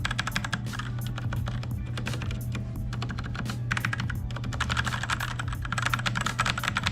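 Fast, continuous typing on an Inland GM-98 mechanical keyboard with red switches produces a close, dense patter of soft keystroke clacks and thocks, with brief pauses between bursts.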